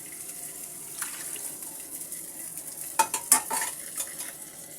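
Yardlong beans being stirred into a tilapia curry masala in a pan, soft sizzling under slow scraping strokes, with a few sharper clatters of the spoon toward the end.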